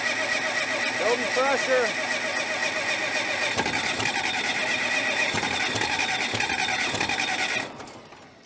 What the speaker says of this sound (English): I don't want to run that starter for too long.